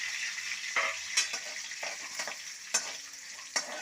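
Onion frying in hot oil in a pan for khichdi, a bright steady sizzle with occasional pops and a few metallic clinks of a spoon, fairly quiet overall.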